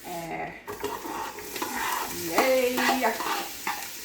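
Vegetables stir-frying in a little oil for fried rice, a bright continuous sizzle with repeated clattering stirs against the pan, while a voice briefly cheers partway through.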